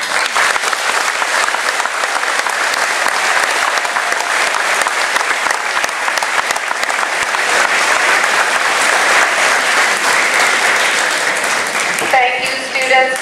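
An audience at an 8th grade graduation breaks into sustained, loud applause, dense clapping filling the hall for over twelve seconds before it tapers off at the end.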